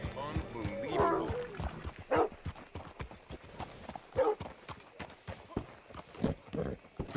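Horse hooves clip-clop at a walking pace in the Red Dead Redemption 2 game, a steady series of close hoofbeats heard beneath character dialogue.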